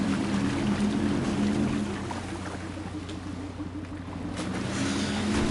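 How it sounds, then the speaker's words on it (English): Boats on water in the building game Trailmakers: a steady, loud droning engine hum with a constant wash of water and wind, continuing unbroken throughout with no one talking. "these are my new boats"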